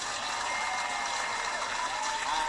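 Steady, dense applause fills a hall for a Rising Star Award recipient, an even wash of many hands clapping together with no speech over it.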